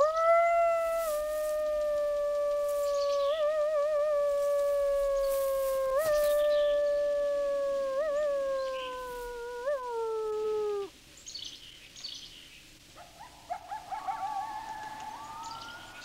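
A family group of coyotes howls, with one long, wavering, rising and falling howl carried for about ten seconds, followed by a scatter of higher yips and short overlapping howls at a distance.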